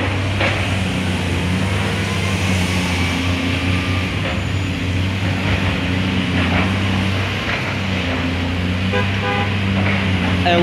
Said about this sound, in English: And we heard a horn!